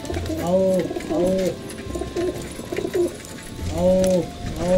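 Pigeons coo nearby in soft, repeated throaty calls, several phrases in a row with brief pauses, against light background noise.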